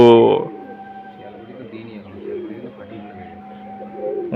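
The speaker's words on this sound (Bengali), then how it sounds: "ওই দেখো ডাকা স্টার্ট করে দিয়েছে ওই দেখো জোড়া নেওয়ার জন্য পাগল একেবারে পায়রাগুলো" Male pigeons eager to mate coo in low, soft, rolling calls close by, while a person talks over them.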